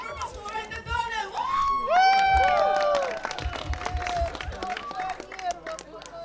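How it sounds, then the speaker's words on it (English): An audience at a performance event applauds and cheers for a donor: rising whoops and shouted voices over scattered clapping, loudest in the middle, then settling into lighter claps and crowd chatter. "And one more applause for the donor!"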